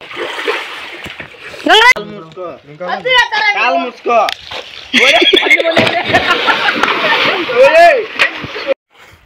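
People splashing and sloshing while swimming in water during summer at Pulivendula, bursts of splashes mixed with chatter, laughter and shouting close by.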